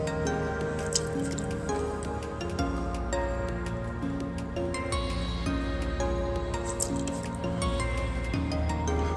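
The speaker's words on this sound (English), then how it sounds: "I'm going to get the water out the bottom" Water being sponged out of the bottom of a large clay pitcher spinning on a pottery wheel, wet squishing and dripping over the steady hum of the wheel motor, close and continuous without talk.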